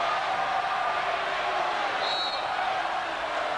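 A large crowd at the 2000 Olympic beach volleyball gold medal match between Australia and Brazil roars and cheers continuously, a dense, steady wall of noise with a faint high whistle partway through.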